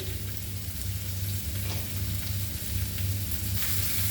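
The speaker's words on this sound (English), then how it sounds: "Fry this nicely." Curry leaves fry in oil in a pan for Goan pork chilli fry, a steady close crackle with scattered pops and a low hum underneath.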